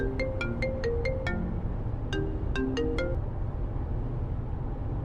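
Phone rings with an incoming call, a melodic ringtone playing two short tuneful phrases over a steady background hum, clear and close, with no talking.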